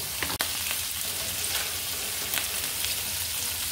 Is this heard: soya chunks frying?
yes